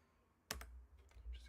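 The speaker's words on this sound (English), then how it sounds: "I'm typing like a weirdo." Keyboard typing, a short burst of several quick clicks close by after a brief quiet start, fairly faint against low background hum.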